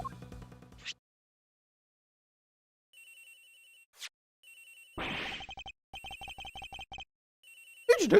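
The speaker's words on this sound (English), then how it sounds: "Agent Hick's phone. It's ringing from somewhere" A telephone rings in the Ace Attorney Investigations video game, an electronic ringtone sounding in repeated bursts with short gaps, clear and moderately loud with no talking.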